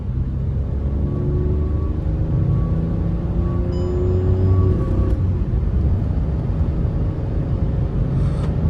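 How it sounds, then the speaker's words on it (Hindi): Hyundai i20 N Line exhaust heard from inside the car, a steady, loud engine drone whose tones climb as the engine revs for a few seconds, then settle into a continuous rumble. "एक तो देखो एन लाइन की आवाज तो है एग्जॉस्ट की"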